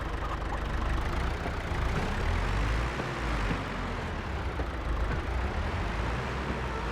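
A tractor engine idles steadily in Farming Simulator 25, a constant low, rumbling drone that holds level throughout with no talking over it.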